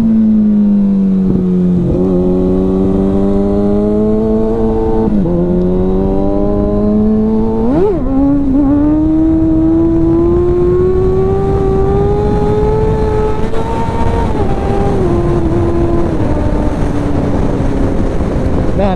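Modified Kawasaki Ninja ZX6R motorcycle engine under way, loud and steady throughout, pitch climbing with each acceleration and dropping briefly at gear shifts, with wind rush over the microphone.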